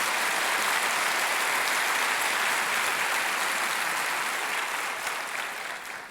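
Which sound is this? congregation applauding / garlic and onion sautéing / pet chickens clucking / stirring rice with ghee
congregation applauding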